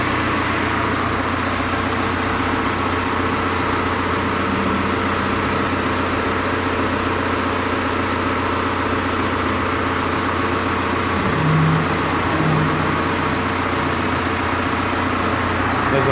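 An Audi A4 2.0 TDI diesel engine idles steadily during hydrogen decarbonization cleaning, a constant low rumble with a faint hum and a few brief mid-range tones near the end.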